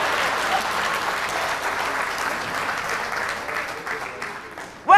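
A comedy show audience claps and cheers in a sustained burst of applause, a dense crowd sound that holds steady for several seconds before ending abruptly.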